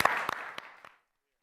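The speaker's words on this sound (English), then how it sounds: "please help me give this man, Sean O'Riordan, a big round of applause" Applause from an audience for a speaker, a short burst of scattered claps that quickly fades out to silence.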